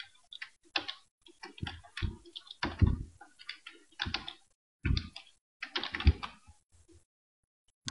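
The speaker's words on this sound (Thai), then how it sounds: "เราจะทดลองพิมพ์ให้ดูนะครับ" Someone types on a computer keyboard in bursts of crisp, close clicks, short runs of keystrokes separated by brief pauses, with no talking.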